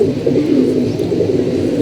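A flock of pigeons kept for high flying coos continuously nearby, a dense, even murmur of overlapping low calls with no voices over it.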